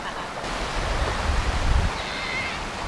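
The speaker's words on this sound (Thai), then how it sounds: "นะเดินย่ำน้ำตกเล่นเนี่ยก็เพลิดเพลินมากเลยอ่ะ" Chet Si waterfall in Bueng Kan, Thailand, gives off a dense, steady roar of falling and splashing water, close and broadband, with a brief rise in low rumble midway.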